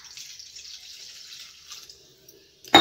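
Water running steadily into a cooking pot for a bitter gourd and lentil-dumpling dish, a close, hissing pour that fades out, followed by a sharp clatter at the very end, no voices.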